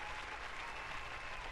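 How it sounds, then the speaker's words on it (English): A live studio crowd applauds and cheers steadily, a dense wash of clapping that stays loud and even throughout with no pauses. "The crowd's going wild."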